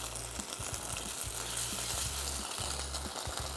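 Ketchup hits a very hot pan and sizzles in a steady, close hiss, with a low hum underneath and a few faint scrapes throughout.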